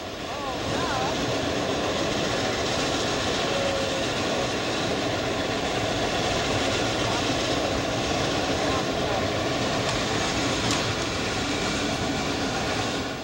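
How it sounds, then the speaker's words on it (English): A tourist train arrives at Bald Knob station on the Cass Scenic Railroad in West Virginia, a loud, continuous rumble and roar close by that fills the whole stretch, with a brief higher whine or squeal partway through. "our train is arriving at Bald Knob right now"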